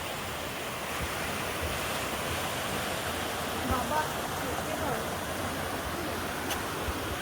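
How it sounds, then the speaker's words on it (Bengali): A small waterfall pours down a hillside beside the steps to Panchalingeswar Temple, making a steady, dense rush of splashing water that stays loud and even throughout. "দেখো কি সুন্দর ঝর্ণাটা বেরাচ্ছে।"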